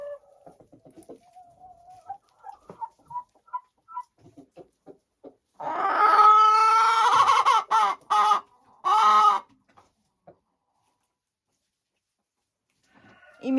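A hen laying an egg gives a loud burst of close, repeated clucking calls, with a few short bursts after it, following faint scattered sounds and then silence.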